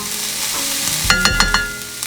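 Onions sauté to golden in a pan, a loud close sizzle with a low rumble joining midway and a quick series of four spatula scrapes and taps, no voices.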